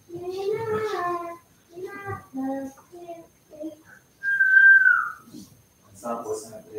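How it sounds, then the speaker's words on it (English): A single short, rising-and-falling whistle sounds clearly between bursts of nearby talking voices. "Stop whistling at the fiddle"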